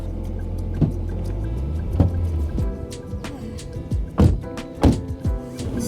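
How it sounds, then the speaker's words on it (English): A car drives along a road through the paddy fields of Sekinchan, Malaysia: low engine rumble inside the cabin with several dull thumps and knocks over about six seconds, no speech. "This is my first time driving in Malaysia."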